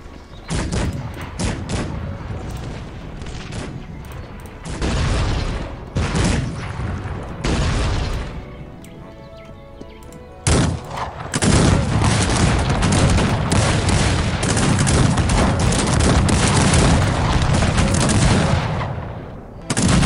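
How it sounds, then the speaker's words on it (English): Musket volleys and artillery fire in the strategy game Cossacks 3 come in heavy bursts of crackling gunfire and booms, separated by brief lulls, with sustained loud firing toward the end and a voice talking in places. "Let's just start firing on them."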